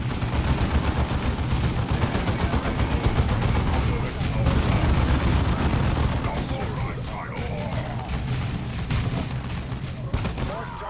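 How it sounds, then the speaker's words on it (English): Heavy weapons volley fire in the strategy video game Dawn of War 2, a dense continuous barrage of gunfire and booms filling the whole stretch at steady loudness, with voices in the mix. "hit them with a nice bit of volley fire"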